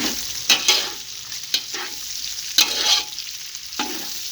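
Pork cracklings frying in oil rendered from the pork, with steady close crackling and sizzle and several sharper bursts of spatter and stirring scrapes, no voices.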